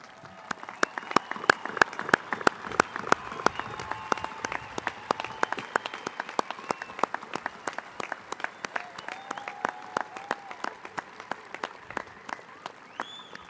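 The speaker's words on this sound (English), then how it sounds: "well-deserved round of applause" A large crowd at a spring university commencement ceremony breaks into dense, sustained applause for first-generation graduates, many hands clapping rapidly and steadily throughout.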